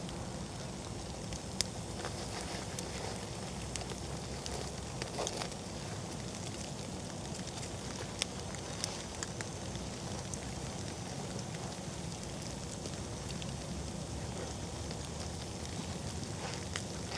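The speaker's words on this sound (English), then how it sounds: "Splitwood fire, knee high," Split-wood campfire, knee high, burning in steady rain outdoors, with a continuous hiss of rain and fire and scattered faint crackles and pops throughout.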